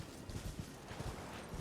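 Horse hooves clip-clop in a quick, muffled rhythm as a horse is ridden in Elden Ring, faint and steady over a short stretch.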